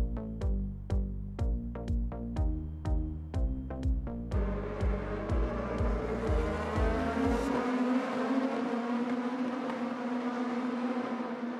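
IndyCar race cars at the Indianapolis Motor Speedway road course during the 2020 Grand Prix of Indianapolis: after a run of rhythmic pulses, engines scream and sweep past, loud and sustained, with no voices.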